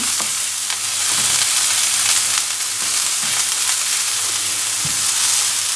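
Ground beef patties with mustard fry in a pan, giving a constant bright sizzle with occasional soft pops and crackles throughout.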